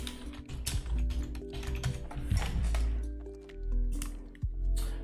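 Fast typing on a computer keyboard, a close run of quick key clicks with a few louder taps, steady over a few seconds with no talking.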